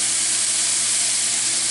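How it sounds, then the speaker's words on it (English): Pre-cooked ham sautéing in a big pan, a dense, even, loud hiss of steam and sizzle without pause or talk. "I'm going to throw this ham in here beside it and let them saute while they're in there."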